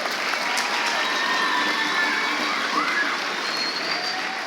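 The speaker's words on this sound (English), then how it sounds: "Let's have an applause for Josh" An audience applauds at a Veteran's Day event, an even, sustained patter of many hands clapping at moderate volume throughout, with faint whistles or squeaks in the background and no talking.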